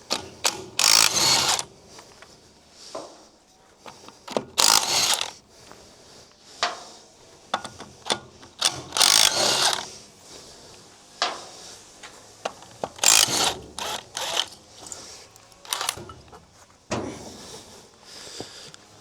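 A ratchet loosens the wheel on an Ifor Williams trailer, heard as repeated bursts of rasping clicks and metallic rattles separated by short pauses, close and moderately loud with no talk.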